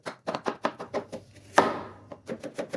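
A knife chops ingredients finely for peri peri sauce on a board, quick evenly spaced cuts close by, with a short pause midway before the rapid rhythm resumes.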